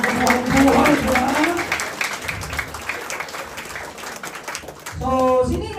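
Applause from a live audience at a Filipino talk or seminar, a steady wash of clapping under a presenter's voice, swelling at the start and again near the end.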